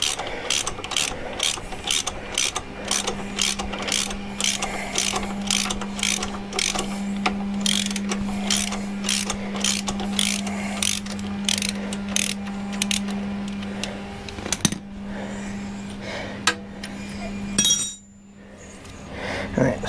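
Ratchet wrench turning a nut while installing a Motone engine crash bar on a Triumph Bonneville, a loud, close run of rapid, evenly spaced metallic clicks lasting most of the clip before stopping with a clink.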